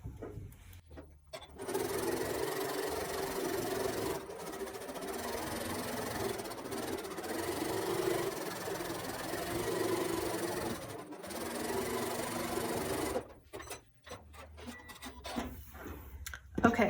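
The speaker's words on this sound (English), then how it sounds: "we'll sew these 2 rows together now" Sewing machine joining two pinned quilt rows, a long steady motor hum with small pauses and speed changes, framed by handling clicks at the start and end.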